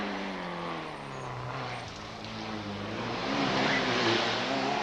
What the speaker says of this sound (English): the Nissan Sunny GTI, GTI-R, I should say, they're sorting out the problems with it, and it's going really quite nicely at the moment